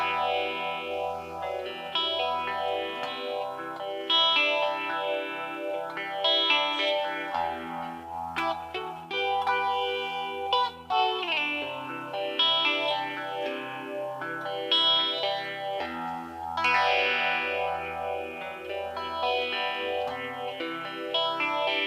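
An electric guitar runs through an Accel FX22 multi-effects pedal, with chorus-swirled, distorted chords and melodic lines ringing with echo at a moderate level, shifting between tones over about twenty seconds with no talking.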